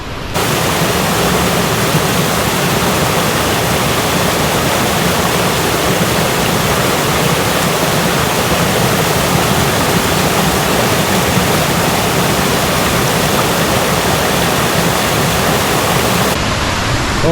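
A creek rushes down through a rocky canyon with sheer rock walls near Fire Lake in British Columbia, a loud, steady, unbroken roar of water close by with no voices.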